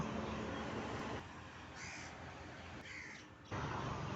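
Outdoors, a black crow feeding a white chick caws faintly a few times in the distance, the calls half buried under a steady rushing hiss of background noise.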